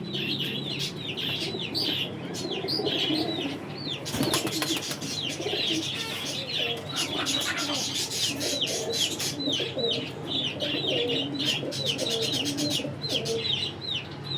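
High-flying pigeons coo and murmur softly nearby, mixed with chirping birds and occasional clucks, a continuous busy flock sound with a brief flutter of wings.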